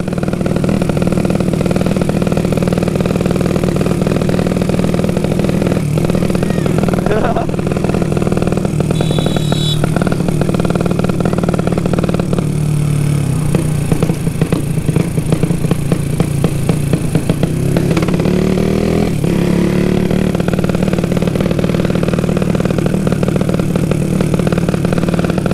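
A motorcycle engine modified to sound like a helicopter runs loud and close for a long stretch, a steady rough throbbing idle with a chopping beat and occasional revs, without talk.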